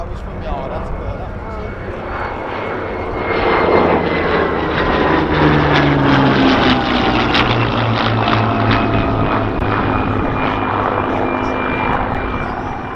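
Hispano Buchon and Hawker Hurricane warbirds fly in formation at an airshow, their piston engines and propellers droning loudly in a swelling roar over several seconds, with a commentator talking over them.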